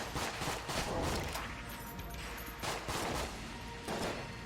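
Flame hand gun in Enter the Gungeon firing in rapid bursts, loud crackling blasts repeating in quick succession with brief gaps between volleys.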